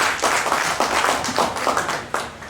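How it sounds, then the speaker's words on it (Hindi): Audience at a cultural evening of a railway engineering institute clapping in a lively burst of hand claps, close and fairly loud, with rhythmic rising surges across a couple of seconds. "ताली जोरदार होनी चाहिए"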